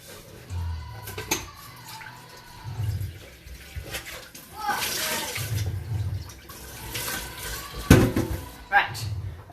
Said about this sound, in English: I'm going to just give this a quick wash because I don't want to burn it